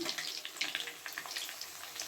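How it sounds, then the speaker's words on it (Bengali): Chicken cutlets fry gently in a pan over low to medium heat, giving a soft, steady crackle and sizzle with small popping bursts, faint and close, with no talking. "আস্তে আস্তে ভাজা হচ্ছে"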